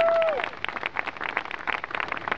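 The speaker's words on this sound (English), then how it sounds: "Give her another round of applause." An audience at a lawyers' rally applauds in a moderately faint, continuous patter of many hands clapping, following a brief tone at the start.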